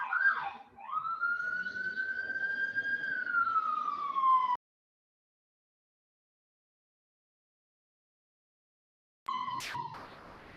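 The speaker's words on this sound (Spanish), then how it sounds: "pasó una ambulancia por acá" Wailing ambulance siren passing close by, loud and sweeping in pitch for about four seconds, then cutting out before a brief return near the end.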